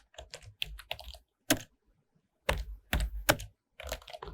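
Computer keyboard typed on while entering Java code, in close, crisp bursts of key clacks separated by short silences.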